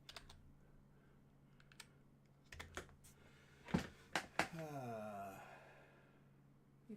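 Scattered keystrokes and clicks on a computer keyboard, close and fairly quiet, with a few sharper taps in the middle and a breathy sigh or vocal sound near the end.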